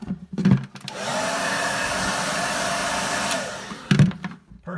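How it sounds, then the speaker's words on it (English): A hair dryer switches on with a thump, blows with a steady whirring roar for about three seconds, then clicks off. "I'll use this hairdryer to test it up"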